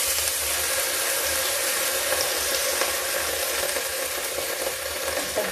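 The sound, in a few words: vegetables being mixed and stirred in a frying pan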